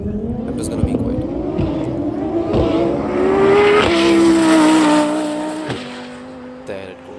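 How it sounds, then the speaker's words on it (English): An Audi R8 supercar accelerates on a drag strip at an Indian drag meet, its engine note climbing in pitch through the gears and swelling loud, then fading as it pulls away, with some crowd noise around it. "Okay, now is the run of Audi R8."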